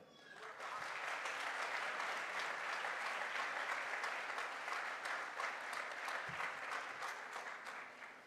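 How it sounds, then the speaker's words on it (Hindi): Hall audience at a direct selling promotion event breaks into dense, steady applause that swells quickly and holds evenly for several seconds, fairly distant and faint. "एक बार तालियां हो जाए"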